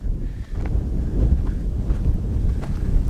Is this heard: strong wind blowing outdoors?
yes